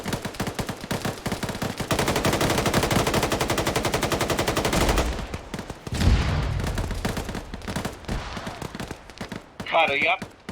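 Rapid machine gun fire in the video game Synthetik, a dense continuous burst for several seconds followed by scattered shots and rumbling, with a voice speaking near the end.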